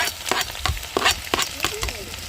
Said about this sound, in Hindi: प्याज को करेंगे पहले फ्राई अच्छे से